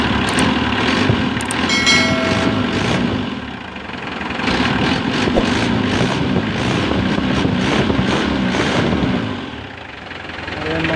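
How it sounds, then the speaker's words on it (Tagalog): Mitsubishi 4D56 diesel engine running steadily just after injection pump timing, a close, loud, clattering idle with rhythmic knocking that swells and dips slightly, with a few faint higher ticks early on. "Ayan, so umandar na."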